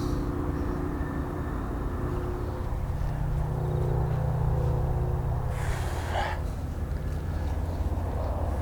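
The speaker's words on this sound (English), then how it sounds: "It's the wind is really coming across here." Wind blows across an outdoor golf range as a steady, loud rumbling buffet of gusts close to the microphone that masks other sound, with a brief breathy swell partway through.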